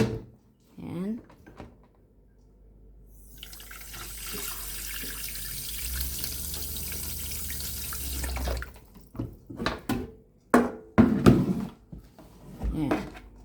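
Tap water runs into a cooking pot to boil sweet potato, a steady splashing stream lasting several seconds, followed by clatter as the pot is handled while someone talks.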